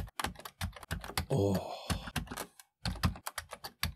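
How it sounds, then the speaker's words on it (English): Rapid key clacks from a Commodore 64 keyboard, a dense run of sharp strokes with a brief pause, close and fairly loud, with a short spoken exclamation. "And now I have to type this in again."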